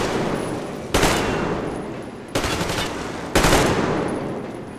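Crossbow-style weapon firing in a post-apocalyptic shooter, with three loud, sharp shots spaced about a second apart, each trailing into a long, decaying noisy tail.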